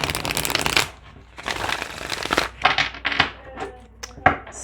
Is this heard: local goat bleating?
no